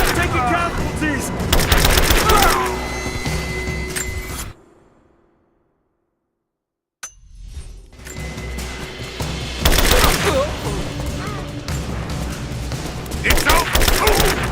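Gunfire in Rise of the Tomb Raider comes in loud, rapid bursts of shots and fusillades. It cuts off into a few seconds of silence and then resumes in heavy volleys, with shouting voices in the battle.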